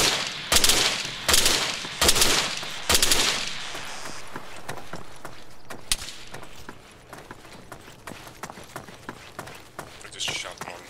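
Gunfire in the survival shooter Breaking Point: a few loud, widely spaced shots up front, then quieter, scattered pops and clatter farther off, with voices talking over parts of it.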